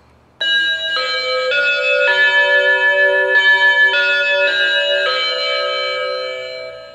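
A GE/Jasco wireless doorbell plays its Westminster chime, a loud sequence of clear bell tones in a steady four-note pattern that rings on and fades slowly at the end, with no talking.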